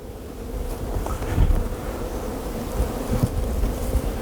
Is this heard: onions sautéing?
no